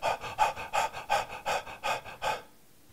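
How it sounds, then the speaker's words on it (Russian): A person does a fast, active breathing exercise, with seven quick, forceful breaths in a steady rhythm, close and clear, before stopping into near silence. "вы ходите на улицу, и очень быстро и активно начинаете дышать"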